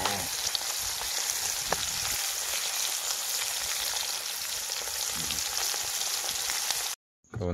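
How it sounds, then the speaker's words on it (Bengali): Two or three shrimp fry in a pan during outdoor cooking by a small creek in the Sundarbans, giving a loud, steady, close sizzle that runs nearly unbroken before cutting off abruptly. "দুটো তিনটে চিংড়ি মাছ দিয়ে দিই।"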